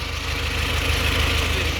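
A tractor engine idles steadily with a low, rhythmic diesel chugging throughout, close by and fairly loud, with no voices.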